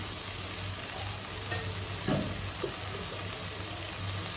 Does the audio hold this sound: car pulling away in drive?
no